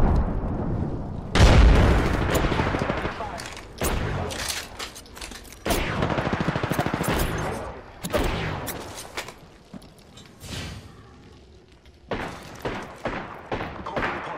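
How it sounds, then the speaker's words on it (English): Gunfire in the battle royale game Apex Legends: repeated loud bursts of automatic fire and heavy impacts in close succession, broken by short pauses, with a booming hit near the start. "they're shooting at my defense"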